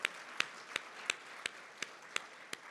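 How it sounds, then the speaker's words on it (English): A round of applause at a dinner held to honour an honorary doctorate recipient: sparse, distinct claps ring out at a steady pace across the room, fairly faint and with no talking over them. "I think we can give her a round of applause"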